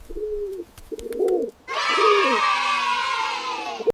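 A pigeon gives a few soft, tonal coos in short separate phrases, followed by loud children's cheering and crowd noise.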